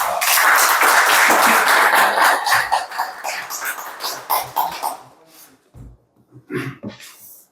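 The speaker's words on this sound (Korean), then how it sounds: "큰 박수로 한승주 대표님을 맞아주시면 정말 감사하겠습니다" A forum audience on low birth rate policy breaks into loud, dense applause to welcome a speaker, sustained for about five seconds before thinning into a few last claps.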